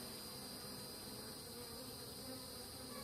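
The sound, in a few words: bees buzzing around a beehive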